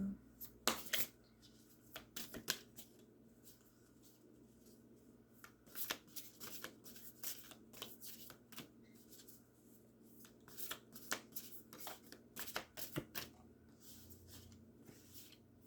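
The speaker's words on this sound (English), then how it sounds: "these cards are so hard to shuffle" Quiet, close tarot card shuffling, with bursts of rapid riffling clicks and flicks separated by brief pauses, repeating for several seconds.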